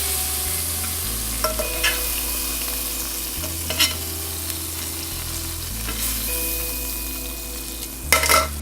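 Food sizzles and fries steadily in a pan of oil with a dense, close crackle, punctuated by a few louder pops and utensil clinks, with no talking.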